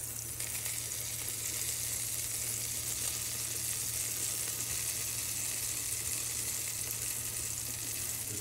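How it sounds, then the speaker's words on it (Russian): Apples with a little sugar fry in a pan, giving a steady, even sizzle that holds at a moderate level throughout, with a constant low hum underneath and no talking. "Сейчас будем вкусно обжаривать яблочки."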